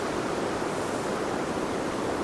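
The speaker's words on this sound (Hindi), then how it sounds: "और नीचे हमारी ये प्यारी सी नदी" A river rushes below the Manikaran hot spring, heard as a steady, loud broadband roar of flowing water with no voices.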